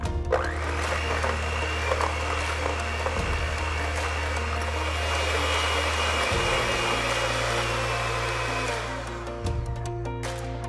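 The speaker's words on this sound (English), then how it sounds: "So you want to mix the sugar and the banana together for a good 35 to 40 seconds." An electric mixer whirs steadily in a bowl of mashed banana and sugar, a loud continuous motor drone with slight pitch shifts as the beaters work, running throughout with no talking.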